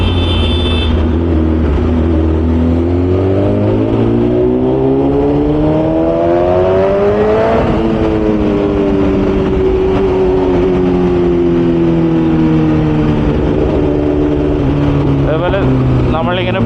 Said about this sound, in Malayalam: ഈ വണ്ടീൻ്റെ എക്സോസ്റ്റ് ഓസ്റ്റിൻ റേസിങ്ങിൻ്റെ അത്ര ലൗഡ് അല്ലെങ്കിലും നല്ല ലൗഡാണ്